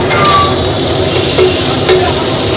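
Onions fry for pav bhaji and pulao rice at an Indian street food stall, a loud steady sizzle with stirring scrapes and a few sharp clinks of a utensil against the pan.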